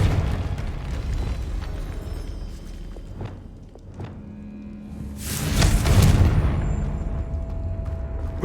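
A Confringo fire spell explodes in Hogwarts Legacy, a loud whooshing blast that swells for about a second amid a steady background of game sound and lighter effects.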